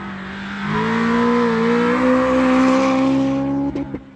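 A BMW E30 race car with a Honda S2000 engine screams at high revs on a sprint track, pitch climbing through gears in a loud sustained whine, then dropping off abruptly near the end.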